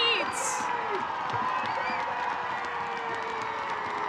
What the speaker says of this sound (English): listen to that crowd. It's a big, big crowd.